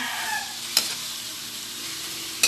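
Chicken pieces fry with ginger in a hot pan, a continuous bright sizzle with two sharp stirring scrapes, close and steady.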